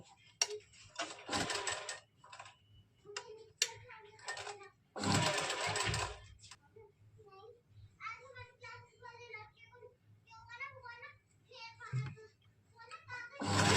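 A sewing machine runs long basting stitches along lining fabric in short bursts, with someone talking between the runs.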